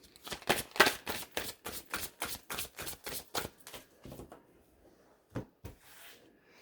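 Tarot cards being shuffled by hand, a rapid run of about a dozen crisp riffling bursts in steady rhythm followed by a pause and two final snaps, close and fairly quiet with no talk.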